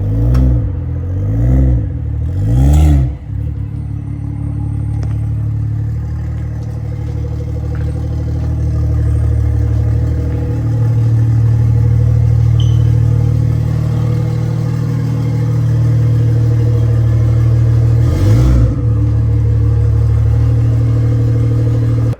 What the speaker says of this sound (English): it's on a dump exhaust right now, meaning there's no exhaust, so let's hear how it sounds